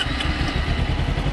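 A motorcycle engine turning back over and running, with a steady low rumbling idle and light mechanical clatter, close and loud for the whole moment, with no one talking.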